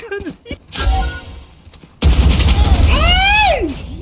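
Shotgun blasts in Valorant burst out loud at about the two-second mark, followed by dense gunfire and ability sounds, with excited voices shouting over the action.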